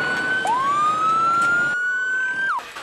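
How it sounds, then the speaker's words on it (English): Emergency vehicle siren rings out loud and close: a sustained wailing tone sweeping up then holding, cut by a sharp downward yelp near the end, with no talking. "So these sirens aren't for me."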